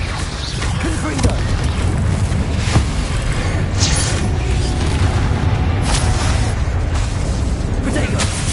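Confringo explosion spell cast in Hogwarts Legacy, a loud booming blast within dense game combat noise, with a voice shouting over the action.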